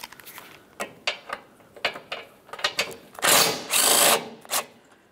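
A ratchet loosens the 13 mm mounting nuts of the front bumper impact absorber on a 2012-2018 Nissan Altima. Close, irregular clicks come in short bursts, followed by two longer rasping runs.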